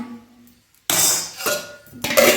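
A lid set onto a pot of rice coming to the boil on a home kitchen stove gives a couple of close metallic clanks and clatters, with no talking.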